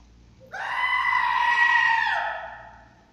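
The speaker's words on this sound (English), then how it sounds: "Let's do a mega scream." A single drawn-out, high-pitched scream in a Roblox game rises sharply, holds for about a second and a half, then trails off, loud and shrill against a quiet background.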